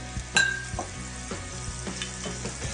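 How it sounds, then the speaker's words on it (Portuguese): Margarine for a mushroom and olive sauce melts and sizzles in a pan, giving a constant frying hiss broken by short clicks and scrapes as it is stirred. "Eu vou adicionar aqui um pouquinho de margarina."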